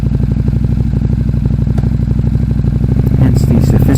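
A 2011 KTM RC8R superbike with an Akrapovic exhaust, slipper clutch and quick shifter, idling in neutral with a loud, close, steady lumpy throb and a slight rev lift toward the end.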